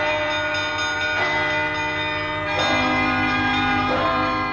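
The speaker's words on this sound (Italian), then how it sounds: "siamo arrivati al momento del suonare la campana" A church-type bell rings loudly in sustained, overlapping strokes, with three or four clear strikes whose long metallic tones hum and decay into one another.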